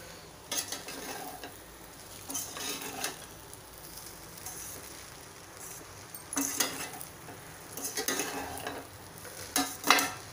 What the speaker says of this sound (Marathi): असे छान लिंबू घातल्यावर पण मिक्स करून घ्यायचे आहेत